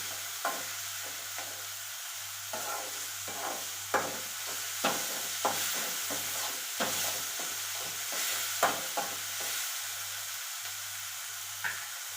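Tomatoes and onions with salt cooking in a pan, a continuous hiss of sizzling with regular knocks and scrapes of a spoon stirring at close range, no talking.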